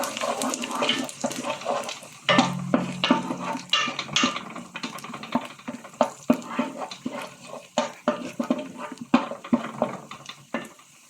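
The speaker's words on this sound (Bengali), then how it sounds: "এই যে এখন আমি এর ভিতরে মনে করেন আস্ত মশলা কিছু দিয়ে দিলাম" Whole spices such as cumin, fennel seed, dried black lime, bay leaves, cardamom and cloves dropped into a cooking pot and stirred, giving repeated scraping clatters and sizzling hiss in a steady irregular rhythm, close and fairly loud.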